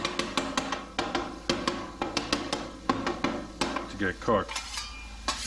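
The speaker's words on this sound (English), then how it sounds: "It's the cutting, slicing, dicing, and mixing of all the parts." Metal spatula clatter on a Blackstone 22 griddle as steak bomb fillings are chopped, sliced and mixed: rapid, irregular close scraping and tapping strikes over a faint sizzle, with a brief spoken phrase near the start.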